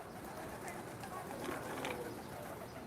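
Pigeons cooing close by, soft and steady over a low rumbling background, with a few brief louder coos rising near the middle.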